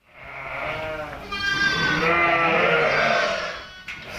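Sheep bleat on a Welsh farm during lambing, with one loud, drawn-out, wavering bleat close by following softer calls, and no voices.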